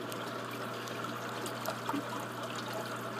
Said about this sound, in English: I just put this little kid's swimming pool filter in here for a couple hours a day